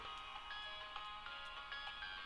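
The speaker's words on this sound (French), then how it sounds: "Non, il y a vraiment une musique." Eerie music from the Piggy horror game in its Decay mode, a steady tonal drone with high repeating ringtone-like notes, moderately loud and unbroken, with no voices over it.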